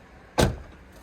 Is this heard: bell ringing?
no